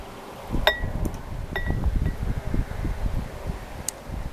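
Wind blows outdoors, a low rumbling gust noise buffeting the microphone throughout, with a few faint clinks of glass and rustling close by.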